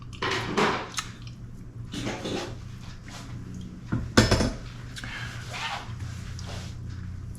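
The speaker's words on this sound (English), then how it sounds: "scraping out the residual in there and licking it off the spatula" A spatula scrapes leftover chocolate ice cream from the inside of a tub. Loud, close scrapes and plastic clatters come in irregular bursts, with a few sharp knocks and a low background hum.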